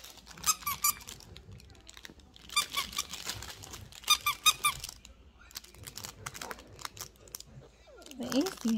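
Squeaky dog toy squeezed repeatedly, bursts of sharp high squeaks in clusters with crinkling handling noise between them, close by, with people talking at times.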